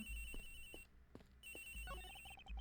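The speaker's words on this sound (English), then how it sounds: "The ringing's coming from somewhere around here." Telephone ringing in the Ace Attorney Investigations video game, an electronic ringtone with tonal bursts repeating over a quiet game backdrop.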